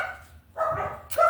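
Dogs bark close by in short loud bursts, two or three barks in quick succession.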